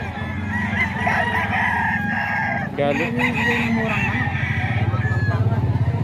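Roosters at a market crow and cluck nearby, a long crow standing out over a busy backdrop of rhythmic clucking and farmyard din, with someone talking over the birds.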